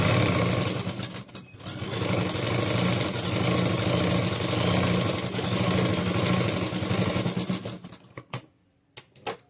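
A sewing machine stitches saree fabric into an umbrella churidar, running in a fast, continuous rattling hum that pauses briefly, then stops near the end with a few short bursts of stitching. No one talks.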